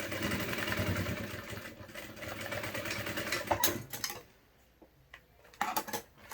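A sewing machine stitches piping onto a children's animal backpack, a steady close whir running for about four seconds before stopping, followed by a few short handling clicks and a brief final burst.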